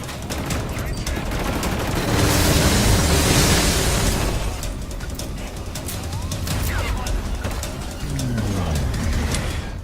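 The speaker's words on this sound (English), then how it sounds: "Lots of shooting, lots of explosions, lots of shouting." Dense gunfire and explosions from the Killzone: Shadow Fall video game, with bursts of shooting and booming blasts swelling loudly in the middle and again near the end, under a continuous busy battle din.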